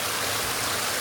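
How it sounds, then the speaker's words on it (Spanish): Waterfall on a rural farm property: a constant, loud rushing roar of falling water that fills the moment evenly, with no voices. "Aquí estoy junto a mi catarata, a mi cascada."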